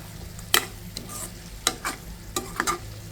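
A spoon stirs fish curry cooked with gondhoraj lemon in a hot pan after spices go in, giving a few distinct scraping clacks over a soft sizzle, close and spaced irregularly.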